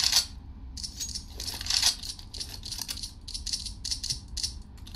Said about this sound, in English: It is a really loud clicking noise.